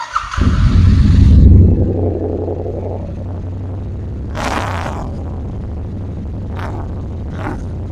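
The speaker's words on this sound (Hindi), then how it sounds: "तो आई एम वेरी हैप्पी कि ये AEW का एग्जॉस्ट काफ़ी अच्छा है।" A Royal Enfield Bear 650 with an AEW aftermarket exhaust rumbles in an enclosed space, a deep rev swelling over the first two seconds then settling into a steady idle throb, with a few brief hissing noises later.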